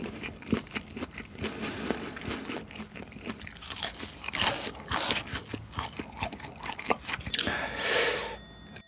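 Close crunchy bites and wet chewing of spicy Burger King Angry Nuggets, several crisp bites followed by mastication, loud and up close with no talking.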